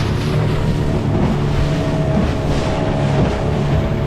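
A boat motor runs steadily at sea, close and loud with a constant low drone and hull-and-water wash, while floating sargassum weed fouls the engine near Saint Martin.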